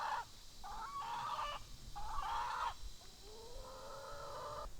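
Chickens cluck and a rooster crows repeatedly in the open, its call stretched and loud over a steady outdoor background.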